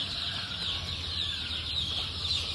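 Chicken chicks on a farm cheep in a dense, continuous high chorus, close and steady, over a faint low hum.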